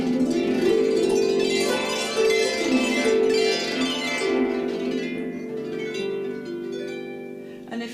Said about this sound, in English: This is a folk lever harp